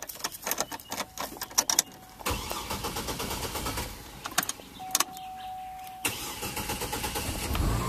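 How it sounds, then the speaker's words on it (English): A car that has sat unused for a long time, with its gear shifter stuck in park, cranks with a rapid stuttering starter whir, catches and settles into a steady idle, alongside a couple of sharp clicks and a brief electric whine. "we'll go ahead and crank it up"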